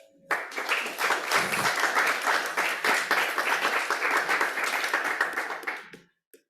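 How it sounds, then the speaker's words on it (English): An audience at a talk on sanitation technology finance breaks into applause, a sharp start of dense clapping sustained for several seconds before stopping abruptly. "Another round of applause for Steve, please"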